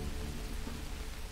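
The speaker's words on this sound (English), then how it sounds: "Some Grand Theft Auto San Andreas remaster rain right here." Rain in the Grand Theft Auto San Andreas remaster video game, a dense, steady hiss of heavy downpour filling the short clip evenly and fairly loudly, with no speech.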